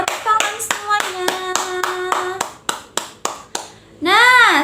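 Elementary schoolchildren in a civics class clapping in a loud, close, patterned rhythm while chanting along, the claps falling in even beats before a final burst of cheering voices.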